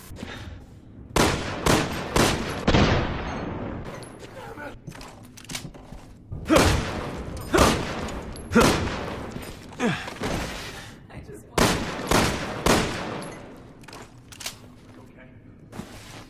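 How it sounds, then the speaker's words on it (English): Repeated gunfire from the Wing Shooter handgun in Resident Evil 6, loud sharp shots fired singly and in quick pairs and bursts, with brief pauses between volleys. "Now for the next handgun, the wing shooter."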